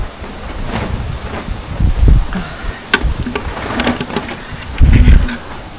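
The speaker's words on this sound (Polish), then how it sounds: "Okropny ten wiatr." Strong wind buffets the microphone in low rumbling gusts, with rustling and a faint buzzing in the background.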